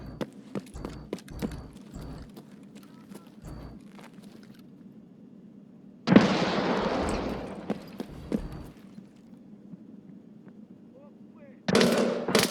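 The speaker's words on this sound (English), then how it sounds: "he's shooting at me through that bush" Gunfire in the Escape From Tarkov shooter game, scattered sharp shots and a loud burst of noise midway, with a speaking voice under the action and another loud burst at the end.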